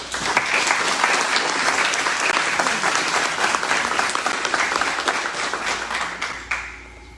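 A high school audience gives a teacher a round of applause at a student awards event: steady, loud, dense clapping from many hands that fills the whole stretch and tails off at the very end.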